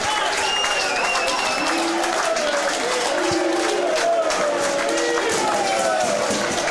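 Football crowd at a National League South match between Hampton & Richmond and Salisbury celebrating a goal, with a steady broadband roar of cheering and clapping that holds throughout at moderate loudness, with scattered shouts above it.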